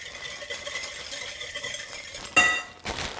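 A quick whisk through salad dressing with sugar, salt and pepper, a short burst of clinking metal against a bowl near the end, after a stretch of quieter kitchen background.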